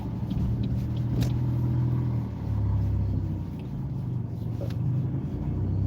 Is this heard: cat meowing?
no